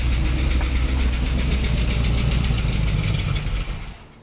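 A 1979 Dodge Power Wagon's 360 V8 with a small two-barrel carburetor runs steadily through an old, fairly quiet muffler, a close, constant low rumble with faint knocking before the engine dies away at the end.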